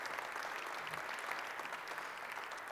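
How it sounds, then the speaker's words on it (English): An audience at the Ohio Statehouse applauding, a steady wash of clapping from many hands throughout, fairly distant and even in level. "Yeah, that deserves applause."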